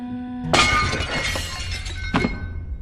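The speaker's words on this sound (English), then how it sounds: "She is able to sneak past her and smashes a vase" A vase shatters in the Little Nightmares video game, a sudden loud crash of breaking glass-like pieces that rings and scatters for a couple of seconds, with a second sharp clink of falling shards near the end.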